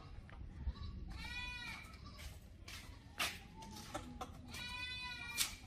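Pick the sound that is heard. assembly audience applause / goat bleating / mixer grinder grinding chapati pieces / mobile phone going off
goat bleating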